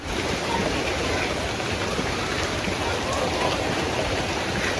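Rain pours down in a constant, unbroken wash of hiss at moderate level, with no distinct drops or voices standing out.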